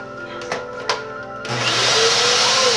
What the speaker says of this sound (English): Let's try our new vacuum cleaner.